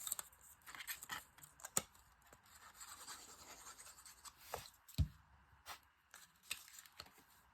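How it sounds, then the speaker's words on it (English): A bone folder scrapes along the creased fold of a paper policy envelope, soft scratchy strokes with scattered small ticks and one sharper tap, all quiet and close. "let's open it up and just kind of go over it with our bone folder"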